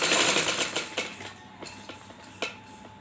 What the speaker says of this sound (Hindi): बिल्कुल इसी तरह हमने इसके सिलाई के ऊपर सिलाई लगानी है